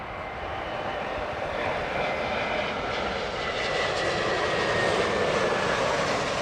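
A Lufthansa airliner inbound from Frankfurt at Heathrow Airport, its engines a broad steady roar that builds slightly as it draws closer, with no other sounds over it.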